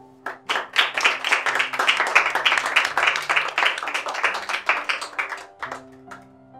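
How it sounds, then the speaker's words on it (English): An audience applauds at a Model United Nations session after a resolution passes, steady dense clapping from many hands that fades out near the end. "Clapping is in order."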